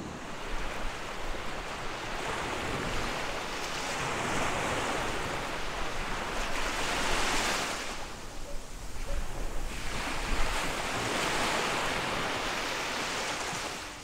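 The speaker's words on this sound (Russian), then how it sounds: "Это чудодейственная сила шума волны" Sea waves breaking on the shore at Zelenogradsk in the Kaliningrad region, a steady broad wash of surf with a few swells and lulls, mixed with wind and no voices.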